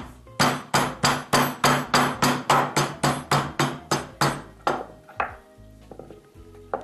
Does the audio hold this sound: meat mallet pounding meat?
yes